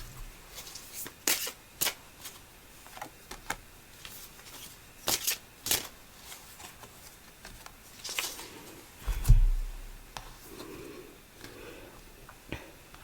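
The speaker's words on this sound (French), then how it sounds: "Je vais recouvrir ces deux cartes." Tarot cards shuffled and handled on a table, giving a run of crisp sharp flicks and soft slides at close range, with quieter rustling and a louder thump near the end; no talking.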